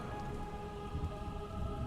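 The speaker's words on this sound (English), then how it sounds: "the raging storm seemed to still. Lightning still flickered, but the wind and rain eased" A storm brings steady heavy rain drumming on a surface, with a low rumble of thunder underneath, continuous and enveloping, with no voices.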